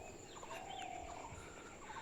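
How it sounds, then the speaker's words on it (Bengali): Birds calling in a quiet casuarina forest near the sea: faint, scattered chirps and short whistled notes drift in from a distance over soft, hushed background ambience. "বিভিন্ন গাছ থেকে কোন গাছ থেকে যে কী পাখি ডাকছে কিছু বোঝাই যাচ্ছে না"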